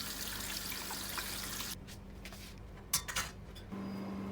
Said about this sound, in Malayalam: ബ്രേക്ക്ഫാസ്റ്റും ലഞ്ചും റെഡിയാക്കിയതിന്റെ പാത്രങ്ങളെല്ലാം ക്ലീൻ ചെയ്തെടുക്കാനുണ്ട്.